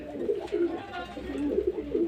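Domestic pigeons at a feeding bowl of rice coo in repeated low, soft phrases, steady and fairly close, with faint background noise.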